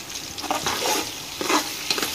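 Onions and potatoes fry in a pan with salt added, sizzling steadily under repeated scraping strokes of a stirring spoon; no talking.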